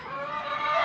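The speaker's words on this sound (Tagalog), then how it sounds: "Bali 7 ang sisiw nila. Sisiw sila." Seven ten-day-old chicks sired by a winning rooster chirp together in a continuous high peeping chorus, close and fairly loud, filling the whole short moment.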